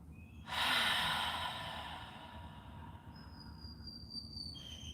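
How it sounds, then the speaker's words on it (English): A deep meditative in-breath, a long airy inhale that swells quickly then fades over a couple of seconds, close and soft, followed by faint high tones in a quiet room. "Breathe in."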